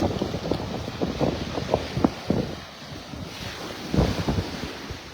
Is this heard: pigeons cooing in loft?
no